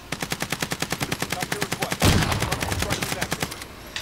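Sniper rifle gunfire in a team shooter video game: a rapid, steady string of sharp shots for two seconds, then a louder blast with heavy rumble and continued clattering fire before it thins out.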